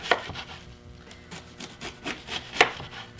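A knife slices vegetables by hand into thin ribbons for a citrus slaw, giving a series of soft rhythmic cuts and rubbing strokes against a board, close and fairly quiet.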